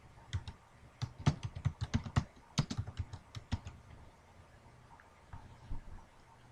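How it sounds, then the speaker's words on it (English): Close keyboard typing on a computer while entering a password hint during a Windows 7 setup, a quick irregular burst of clicking keystrokes that thins out toward the end, alone without speech. "Now it's wanting a password hint, so we can just type in our hint."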